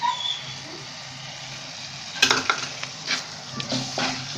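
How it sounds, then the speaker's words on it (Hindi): Minced meat (keema) for palak keema fries in a pot in a home kitchen in Karachi: a steady low sizzle, then from about halfway a run of louder stirring scrapes and clatters over the frying. "अच्छे से भुनेंगे और बहुत अच्छे से भुनेंगे।"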